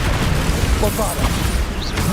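Spell explosion from the Bombarda charm in the video game Hogwarts Legacy: a dense, booming blast over continuous rumbling battle noise, with short bursts and pops and a few faint voice-like sounds mixed in.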